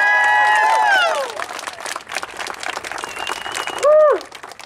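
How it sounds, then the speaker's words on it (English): Applause and cheering from a crowd at an outdoor student encampment rally for Gaza in Sydney, broad clapping noise throughout with a loud whoop at the start and another near the end. "I just think he deserves another round of applause again"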